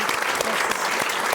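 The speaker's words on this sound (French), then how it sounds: "On peut applaudir bien fort." Studio audience applause on a French talk show set, dense and steady clapping from a full crowd filling the whole moment at close range.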